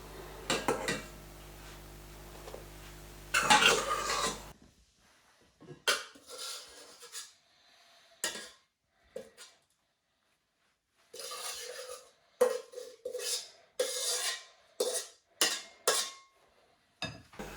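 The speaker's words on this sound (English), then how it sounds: "With a metal spoon, fold in the rest of the egg whites" A metal spoon folds egg whites into chocolate mousse in a bowl, giving brief clinks and scrapes in an irregular rhythm with quiet gaps, after a busier, louder stretch at the start.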